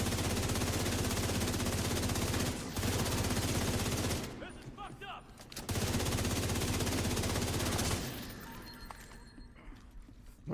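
Rifle fire in The Division 2 from a cowboy rifle build with the 1886, sounding as dense rapid bursts of shots in long loud stretches broken by short pauses, with a voice faintly underneath.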